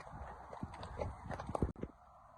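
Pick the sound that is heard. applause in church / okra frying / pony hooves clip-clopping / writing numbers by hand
pony hooves clip-clopping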